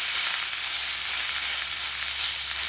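Flank steak sizzles in a hot pan, a loud close hiss with crackling spatter running continuously and evenly throughout.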